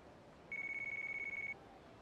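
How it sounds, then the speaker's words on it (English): A phone rings in the Yakuza Kiwami video game: a single steady electronic trill lasting about a second, clear above quiet background ambience. "Got a phone call."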